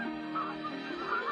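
Migrating birds honking in a continuous overlapping chorus of goose-like calls, steady and fairly close, with no talking.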